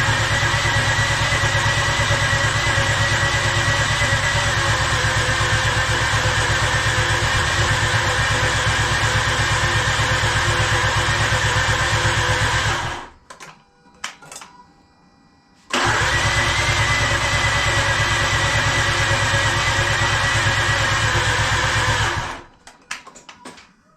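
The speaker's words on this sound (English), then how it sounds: "So we're gonna go ahead and try and start the car." Mazda RX-8 with a swapped JDM 13B Renesis rotary engine cranking and running, a loud continuous drone that holds for about thirteen seconds, cuts out, then returns for several more seconds before stopping again.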